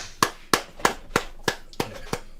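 Seven sharp, evenly spaced claps ring out close and fairly loud, each a crisp isolated slap with a quick decay, like slow deliberate applause from a single person.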